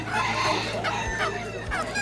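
Chickens cluck at the Durakuti livestock market in Lalmonirhat, giving a few short nearby calls over a constant busy background murmur of the crowd.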